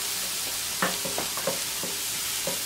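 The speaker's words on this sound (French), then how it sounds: "la tomate confite en purée, voilà, alors on va laisser compoter encore" Puréed tomato confit stewing in a pan gives a steady close bubbling sizzle, with soft wet pops and stirring scrapes breaking through every half second or so.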